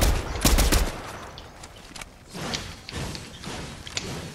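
Gunfire in the video game Fortnite sounds as a loud burst of rapid shots at the start, followed by scattered quieter shots and movement noise.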